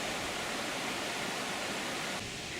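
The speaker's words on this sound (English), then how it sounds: "The groundwater drainage from the main fault on the railway here is seen flowing fastly from the ground itself and on into the River Irwell" Groundwater draining from a railway fault gushes out of the ground into the River Irwell, a steady, loud broadband rush of flowing water heard close and unbroken.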